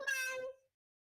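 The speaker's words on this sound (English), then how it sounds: "Yeah, they only purr and meow." A cheetah gives a single short, high meow lasting about half a second, faint and alone.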